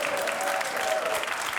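Brief burst of audience clapping in a comedy panel show studio, a dense, loud, continuous patter of many hands with a faint tone running through it.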